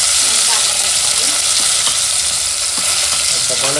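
Onions and tomatoes fry in a pan for vada sambar, giving a steady, close, loud sizzle with faint stirring scrapes throughout and no talking.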